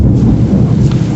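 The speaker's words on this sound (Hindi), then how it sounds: "इस वक्त बारिश है, इस वक्त आवाज़ आ रही होगी बारिश की" Heavy rain pours steadily during the rainy season, with a deep continuous rumble of thunder rolling underneath; loud, dense and unbroken throughout, no voices.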